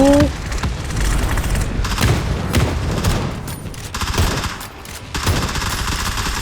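Automatic gunfire in PUBG Battlegrounds during a Skibidi Toilet event match: loud, close volleys of rapid shots and booming reports rattle almost without pause, dipping briefly before another burst.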